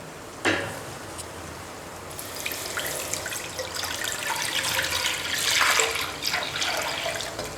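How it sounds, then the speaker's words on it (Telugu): Three glasses of water pour into a pot for chicken biryani in a steady stream after a sharp knock, swelling louder midway before tapering with a few splashes. "ఇది 3 గ్లాసెస్ వాటర్ అన్నమాట ఇందులో పోసుకోవాలి."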